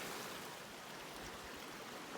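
Water flowing along Mile Creek in a canyon section of Ettrema, a steady soft broadband rush with no break, heard at a low level and without talk.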